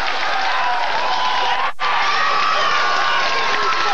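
A packed football stadium crowd roars and cheers during a 1991 St. John's versus Iona college game, a dense, loud, sustained wall of voices with a momentary dip in the middle before the roar surges back.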